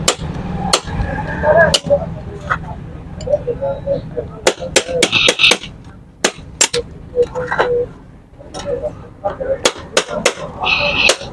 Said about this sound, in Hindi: ये जो हमारा क्लच हाउसिंग होता है थोड़ा इसको ऐसे हिट करेंगे, ये यहाँ से कट जाएगी।